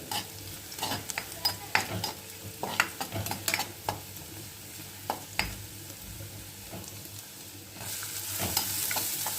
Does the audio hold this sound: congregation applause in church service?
no